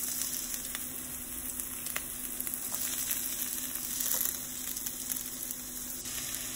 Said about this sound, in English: So I'm gonna add my onion first.